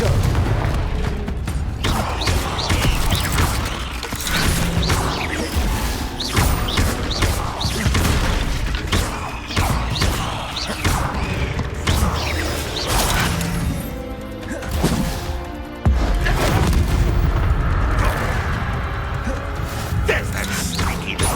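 A Confringo fire spell in Hogwarts Legacy bursts amid a chaotic wizard duel, with repeated booming blasts, crashes and magical impacts crowding together loudly over a dense battle mix and occasional voices.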